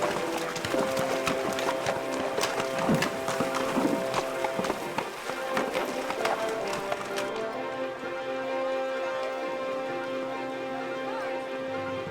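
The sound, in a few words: horses' hooves clip-clopping on a trail ride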